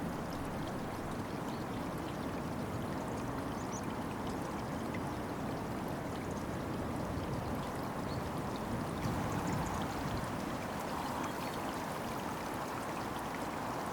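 A waterfall cascade pours steadily, a broad continuous rush of water with no breaks, close and even in loudness from start to finish.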